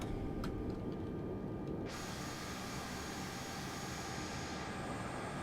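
Jet engines of an Airbus A320neo in Air New Zealand livery taxiing in Microsoft Flight Simulator give a loud, steady broadband roar that brightens into a higher-pitched whine partway through, with no talk.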